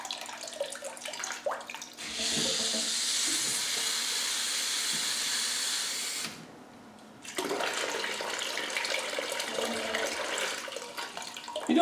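Water flushing through a car radiator into a bucket, a steady hissing rush that runs for several seconds, stops briefly, then resumes with splashing.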